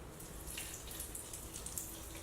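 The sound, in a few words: liquid poured over vegetables for fermenting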